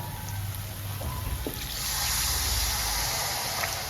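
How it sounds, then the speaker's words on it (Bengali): Water pours into a pan of Bengali prawn curry, a close, steady splashing trickle that swells and grows fuller partway through as the stream continues. "হ্যাঁ আমি দিয়ে দিই জল"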